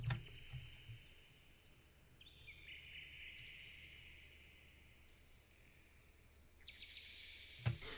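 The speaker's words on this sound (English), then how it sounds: "we have ambience loop here. It's kind of like birds chirping," Soft, high bird chirps and whistled calls layered over a steady low hum, faint and continuous like a background ambience bed.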